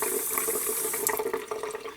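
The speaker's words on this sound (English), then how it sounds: "I use somewhat warm water, but I run the bulb syringe in through this thing a couple of times" Warm water splashes and trickles steadily as a bulb syringe flushes it through a fountain pen over a sink, a close, continuous watery rush with small gurgling bursts and no voices.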